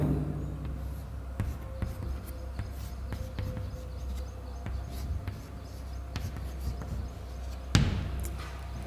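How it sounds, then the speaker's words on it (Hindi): Chalk taps and scrapes against a board during an organic chemistry lecture, arriving as scattered short strokes over a steady room hum, with one sharper knock near the end. "अब इस पर मैं इसको यहां लिख देता हूं"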